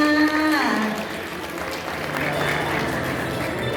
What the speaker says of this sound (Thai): เรียนเชิญทุกท่านปรบมือให้กำลังใจเจ้าบ่าวในการตามหาเจ้าสาวหน่อยค่ะ